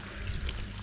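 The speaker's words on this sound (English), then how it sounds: "I've got the hose in, I've just been doing a bit of a water change." Water from a hose runs steadily into a koi pond during a water change, a close, even pouring splash lasting under a second.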